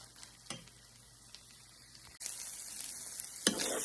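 A pan of meat with jalapeños and onion cooking down, a faint sizzle with a few scrapes that turns suddenly into a louder, brighter hiss of frying near the end, no speech.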